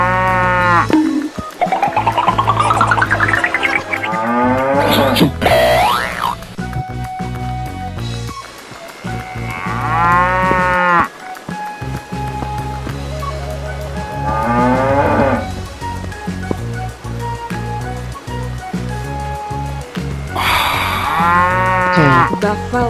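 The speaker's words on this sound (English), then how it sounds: "Cow." A cow moos repeatedly in long, loud, drawn-out calls layered over busy background music and sound effects.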